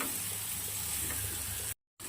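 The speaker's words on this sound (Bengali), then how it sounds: "দেখো ফুলকপি ডিম ভাজা ভাজা হয়ে গেল।" Steady, close sizzling of cauliflower, egg and potato pieces frying in a pan with oil crackling, continuous for about two seconds before a brief dropout.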